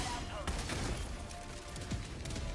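Dense, continuous blasting from automaton cannons and a strider in a Helldivers-style video game, crackling shots and booms layered thickly with no pause, fairly loud throughout.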